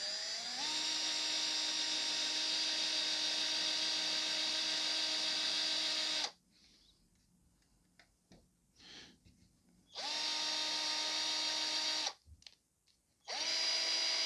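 An electric drill whines steadily while boring guide holes for later tapping in a Ghostbusters Rubies ghost trap, running for several seconds, stopping into near silence with faint handling clicks, then starting again twice in short bursts.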